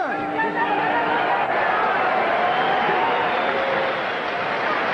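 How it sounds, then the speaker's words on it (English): Roaring, chattering crowd at a WBC super featherweight title boxing match, loud and sustained as it gets behind the challenger, with an announcer's voice heard over the din. "And the crowd gets behind the challenger again."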